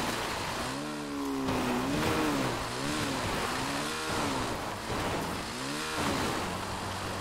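A motorcycle engine in GTA 5 revs up and down repeatedly, rising and falling whines through the gears, close and fairly loud.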